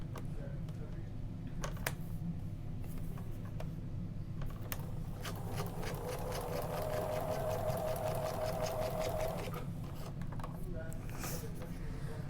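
A sewing machine stitches a paper-pieced quilt block, a steady mechanical whir of rapid needle strokes in the middle of the stretch, quiet and near, with faint handling sounds before and after.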